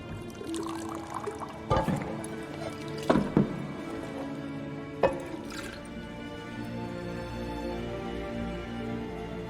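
Drink poured in a tavern in The Witcher 3, a short liquid pour with a few sharp clinks and knocks standing out over steady ambient game music and background murmur.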